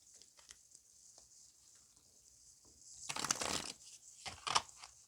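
A deck of Gaia Oracle cards by Toni Carmine Salerno being shuffled by hand, soft papery riffles and slides in two bursts near the end, close and quiet with no talking.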